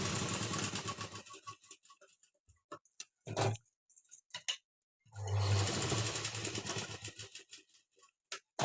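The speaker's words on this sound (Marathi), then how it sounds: "इथे शिलाय मारायची" A sewing machine stitches a garment placket strip in short bursts separated by pauses, with a longer run midway; close and moderately loud, no talk.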